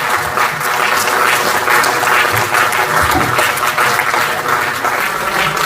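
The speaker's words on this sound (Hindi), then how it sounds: "तालियां थोड़ी बजती रहेंगी" Loud, continuous applause fills the hall at a BSNL jubilee day ceremony, many hands clapping densely and evenly, with a faint murmur of voices underneath.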